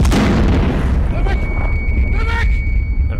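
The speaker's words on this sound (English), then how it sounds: "And a flashbang? I'm assuming?" A flashbang goes off in an enclosed metal space in the Call of Duty: Vanguard video game, a loud booming burst at the start that decays into a high ringing tone, with game voices and effects over it.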